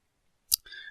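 A single sharp click of a computer keyboard's tab key being pressed, brief and close, followed by a faint tonal hum.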